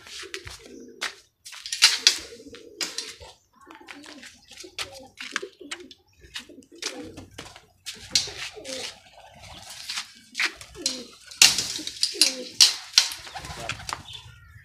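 Pigeons freed from a net coo and call in repeated bursts, with wing flaps and brief clattering close by, irregular and fairly loud over a quiet background.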